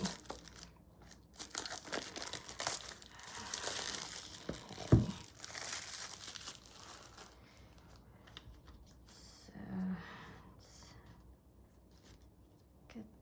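Crinkling and rustling of a full-color paper guide from a Mi Tarot deck by Spark Studio, handled in bursts during unboxing, with a sharp crackle near the middle and faint handling afterward.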